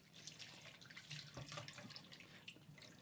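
A kitchen-style tap runs steadily for handwashing, a continuous splashing hiss of water into a sink, fairly quiet and close, with no talking.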